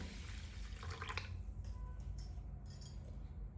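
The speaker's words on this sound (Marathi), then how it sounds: "आता याच्यामध्ये पाणी टाकून आपण तांदूळ भिजायला टाकूया" Water pours into a bowl of washed rice to soak it before making chicken dum biryani, a faint, short splashing trickle over a low background hum.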